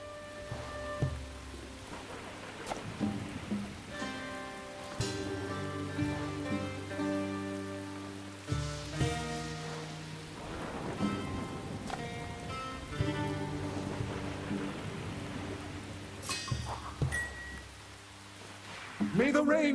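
Rain falls with a soft, continuous patter in the video game Echoes of Mystralia, layered under tonal game music and occasional spoken lines.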